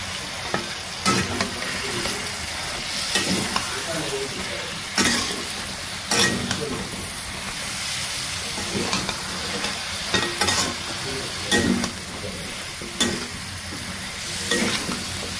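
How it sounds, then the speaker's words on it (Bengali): Mixed winter vegetables sizzle as they fry in a pan of cooked-down spice paste with green chilies and ground shrimp, a steady close crackle broken by repeated scraping strokes of a stirring spoon at an irregular pace. "মশলা কষানো শেষ। এখন এর ভেতর আমি সবজিগুলো দিয়ে দেব।"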